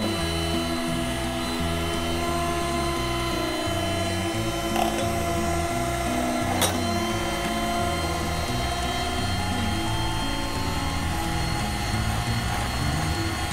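A blender beats mayonnaise as oil is added gradually, giving a steady, loud motor whir with a rhythmic, pulsing low churn throughout and no talking.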